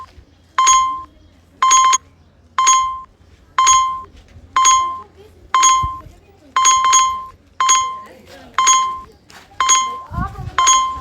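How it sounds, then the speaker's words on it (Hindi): A bright bell-like chime from a Mappls navigation app repeats steadily about once a second, a dozen times, with faint background rumble between the tones. "आपको घंटी सुनाई दे रही होगी।"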